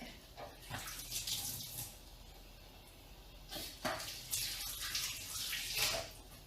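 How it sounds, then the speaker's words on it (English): Hands washed under a running kitchen tap: a quiet, steady stream of water broken by louder splashing surges as the hands move beneath it, close by with no speech. "I'm just gonna wash my hands real quick."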